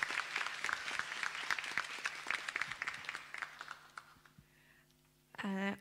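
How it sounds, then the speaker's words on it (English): Conference audience applauding Dr. Zul at the opening of the BIMCO-2024 congress, a close scatter of individual claps that thins and fades out, followed by a brief voice at the end. "Your applause to Dr. Zul."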